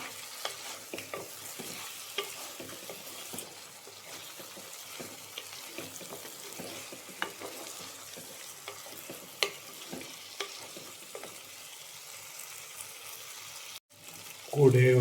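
Stirring a mixture in a frying pan just after three green chillies go in: a steady close sizzle with scraping, clicking spoon strokes throughout, ending in a brief louder clatter.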